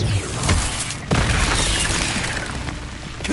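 Confringo fire spell blasts in the Hogwarts Legacy video game: loud booming explosions with a sharp burst near one second, continuous roaring rumble throughout, no speech.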